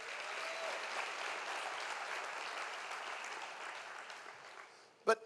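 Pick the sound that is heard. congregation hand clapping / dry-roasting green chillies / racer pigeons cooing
congregation hand clapping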